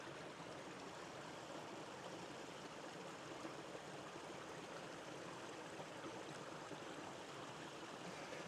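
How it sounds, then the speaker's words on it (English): A small waterfall on a widening forest creek pours steadily, a soft, even rush of water with no breaks and no voices. "here's a nice little waterfall going on"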